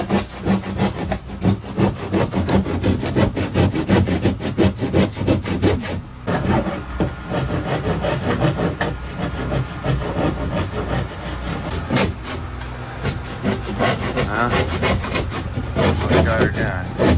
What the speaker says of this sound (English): Just sawing like a boss.